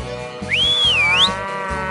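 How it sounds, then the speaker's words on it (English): A cartoon cow at a circus lets out one long, drawn-out moo with a sliding, whistle-like pitch that rises and falls. It sounds over steady background music. "Okay, cow. Come on back."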